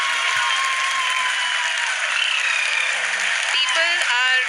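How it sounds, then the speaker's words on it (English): A crowd applauds steadily and loudly at the Chandrayaan-3 lunar landing, dense continuous clapping filling the room with a few tonal voices rising near the end. "People are applauding."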